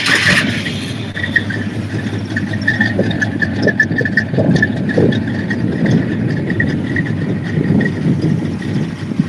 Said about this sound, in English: I can start this one up for you just to give you some sort of an idea.